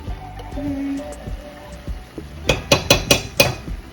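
A spoon stirs rice with green seasoning in a pot: soft scraping at first, then a quick run of metallic clinks and scrapes against the pot.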